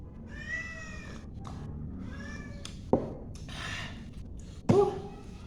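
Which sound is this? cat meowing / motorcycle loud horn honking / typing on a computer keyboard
cat meowing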